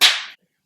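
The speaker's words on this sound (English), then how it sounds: "Can you just clap?" One sharp, close hand clap, made to sync sound, rings out alone and decays quickly into silence.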